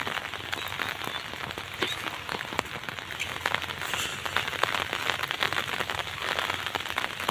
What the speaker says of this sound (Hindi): आज वर्षा प्रबल